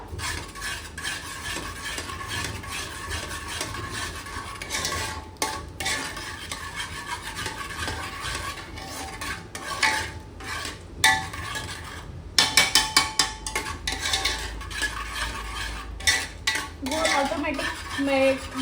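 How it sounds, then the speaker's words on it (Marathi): A spoon stirs and mixes sweet semolina porridge in a metal cooking pot, with continuous scraping and clinking of utensil against the pan, a burst of rapid taps midway and faint sizzling throughout. "आता ह्याला मिक्स करायचं"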